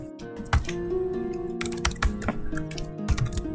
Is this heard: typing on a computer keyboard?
yes